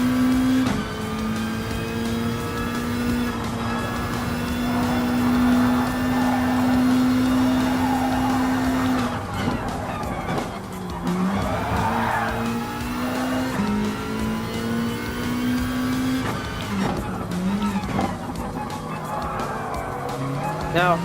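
A WRX Gr.B rally car races in Gran Turismo Sport, its engine droning steadily and loudly with a few pitch drops at gear changes, while a voice talks faintly underneath.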